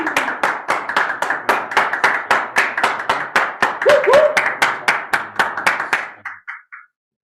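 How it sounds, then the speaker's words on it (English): Rhythmic, evenly spaced clapping in unison welcoming a band, loud and close, with a brief voice midway, slowing and fading out at the end. "Let's give a round of applause."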